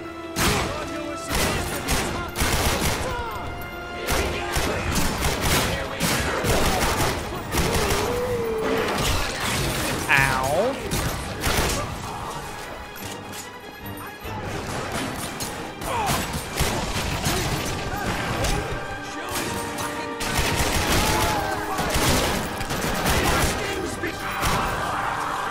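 Video-game AK rifle fire from The Darkness 2 rattles in dense, continuous bursts mixed with crashes and thuds, loud throughout the stretch, with occasional game voices underneath.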